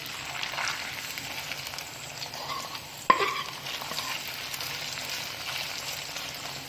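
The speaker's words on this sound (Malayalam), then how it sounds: "നമ്മുടെ സെക്കൻഡ് ബാച്ചും ഇതുപോലെ തന്നെ ഇട്ട് നമുക്ക് ഫ്രൈ ചെയ്തെടുക്കാം" A second batch of beef fries in a pan with a continuous soft sizzle, close by and fairly quiet, broken by one sharp clink of a utensil partway through.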